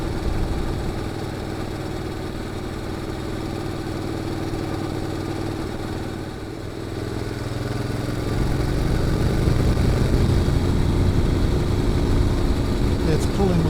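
A Honda NC750X motorcycle fitted with a GPR muffler runs steadily on a wide, winding road, its continuous exhaust drone rising in load partway through, heard close and loud without talk.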